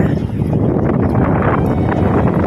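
Strong wind at Jomtien Beach in Pattaya on an overcast day, a loud continuous roar buffeting the microphone throughout with no break.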